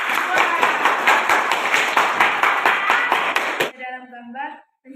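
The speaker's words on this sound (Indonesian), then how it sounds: "Berikan aplaus untuk kelompok" Classroom applause for a group of students, many hands clapping briskly and loudly for several seconds before stopping abruptly, followed by a brief voice.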